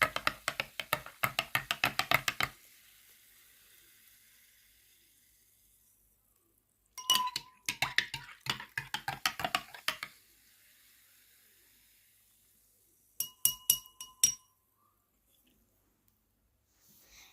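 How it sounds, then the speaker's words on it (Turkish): A spoon clinks rapidly against a glass while stirring mineral water with molasses, in three short bursts of light tinkling separated by silence. "Karıştırıyoruz."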